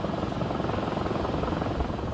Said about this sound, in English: engineers attached a receiver to a small Robinson helicopter